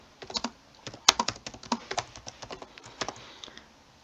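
Computer keyboard typed on while writing a for loop in code, giving a quick, uneven run of close, crisp key clicks with short pauses and no talk.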